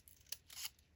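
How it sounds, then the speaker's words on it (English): Recoil scissors snip through paper as excess is trimmed from handmade mini book ephemera, a few quick crisp cuts close by and fairly quiet with no talking. "oh, recoil scissors. That's what they're called."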